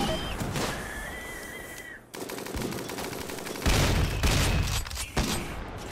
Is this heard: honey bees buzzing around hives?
no